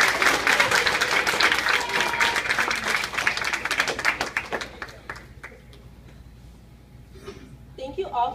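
Loud applause from a large crowd, dense and sustained, then thinning out into scattered claps with a few voices near the end.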